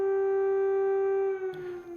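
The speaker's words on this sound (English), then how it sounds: "The siren, which indicated something serious was happening in the country." A civil defense air raid siren sounds in Ukraine, a loud, sustained steady wail holding one pitch before it drops and fades at the end, with no talking.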